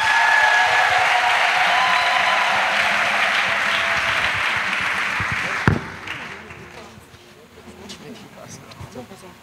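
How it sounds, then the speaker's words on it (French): A church congregation applauds loudly and steadily, then the clapping thins and fades out after a sharp knock, leaving scattered murmurs behind. "Acclamation à Jésus"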